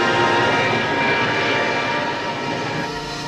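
An Avro Arrow 201 jet aircraft comes back from a test flight with a loud continuous roar and broad rushing whine, holding fairly steady and easing off slightly near the end.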